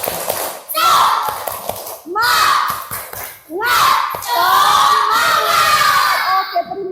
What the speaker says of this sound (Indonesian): kita tepuk semangat dulu, oke? Tepuk semangat.